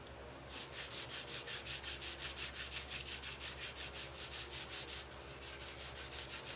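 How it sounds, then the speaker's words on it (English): A JB Weld epoxy repair on a Ducati Monster 900 fuel tank being sanded by hand, a steady back-and-forth rasping stroke repeating rhythmically and close up for the whole stretch, with no talking. "and then we're just gonna sand it"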